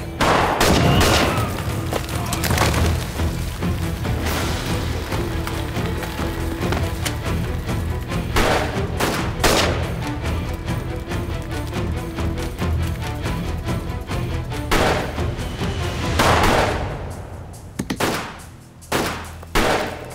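Bombs explode and gunfire rattles in a battle scene from a historical TV drama about Sultan Abdulhamid, with dense loud bursts, splintering cracks and booms going on throughout before the noise breaks into a few sparser blasts near the end.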